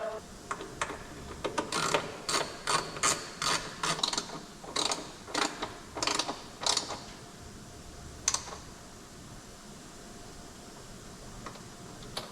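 A ratchet tightening a spark plug on a 2022 Harley-Davidson Road Glide, giving bursts of quick, close clicking strokes in a rhythmic series, then a lone click before quiet.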